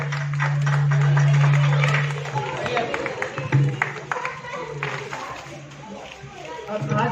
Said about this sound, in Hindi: जोरदार तालियों से स्वागत इसका।